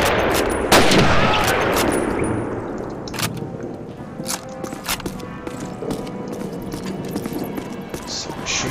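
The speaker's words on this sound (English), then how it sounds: "Submachine gun, that's where it came from." Submachine gun fire in a Call of Duty Soviet mission rattles in close, rapid bursts amid scattered shots and footsteps, with a voice speaking over the battle.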